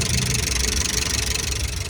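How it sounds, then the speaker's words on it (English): An old Nissan car's engine runs steadily close by, a loud, rough, continuous idle with a slight knocking rumble and no break. "There's the engine working."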